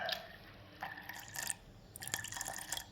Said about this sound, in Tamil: நம்ம இந்த பாலில் சூடான பாலில் இதை ஊற்றிக்கலாம்.